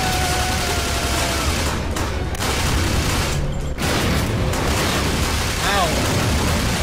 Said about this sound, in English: Stop shooting. You're shooting.